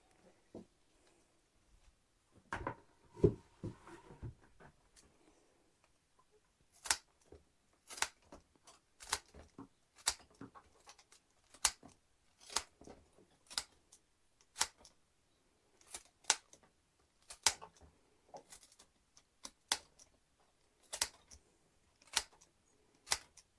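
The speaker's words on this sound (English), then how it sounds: "So I think I'm ready to snip the stems now." Scissors snip cut flower stems from a garden in a long series of faint, crisp clicks at an irregular but steady pace, with soft handling rustles between cuts and no talking.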